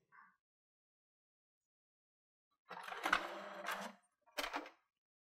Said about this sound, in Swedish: Nu kommer det här ta lite längre tid i och med att det är en fotoutskrift